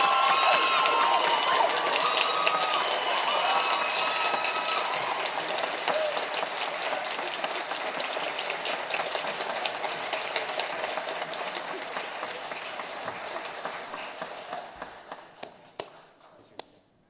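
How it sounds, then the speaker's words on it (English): An audience at a school choir spring concert applauds with dense, sustained clapping and some cheering that holds steady, then thins into scattered claps and fades out. "would you please give a big round of applause"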